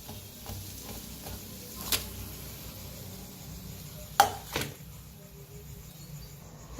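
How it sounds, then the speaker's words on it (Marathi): Vadas frying in hot oil in a home kitchen, a soft, continuous sizzle with a few sharp clinks of a utensil against the pan, fairly quiet and with no talking. "छान तळून घ्यायचं दोन्ही साईडने"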